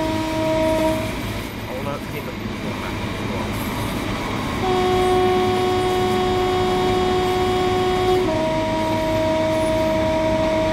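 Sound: train engines in the video game Train Sim World 2

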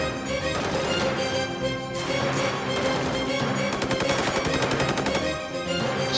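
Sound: gunfire

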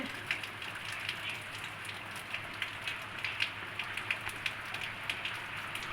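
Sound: heavy rain falling

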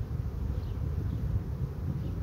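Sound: honeybees buzzing around a small colony

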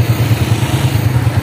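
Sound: motorcycle engine

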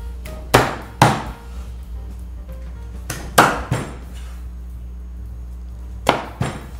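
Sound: chopping braised chicken legs with a cleaver

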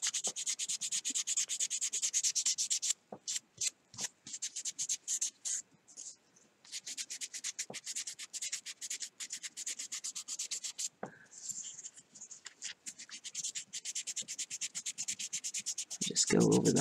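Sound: hand sanding a carved fishing lure with 320 grit sandpaper

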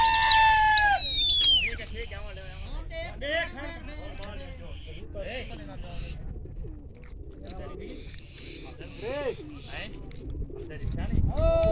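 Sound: pigeons cooing

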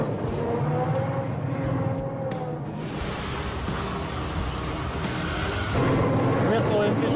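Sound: BTR-82 armored personnel carrier engine revving

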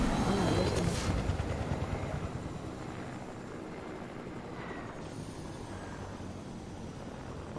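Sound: helicopter in a video game

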